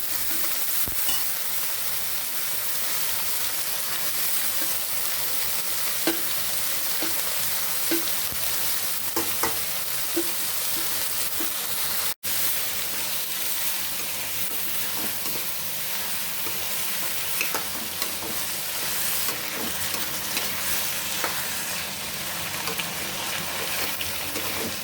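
Bitter gourd fries with cooked tomato in a pan, a steady dense sizzle under repeated scraping stir strokes, close and continuous, with one brief break partway through.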